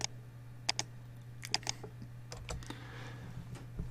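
Computer keyboard spacebar pressed several times, giving faint, sparse clicks over a low steady hum in a quiet room.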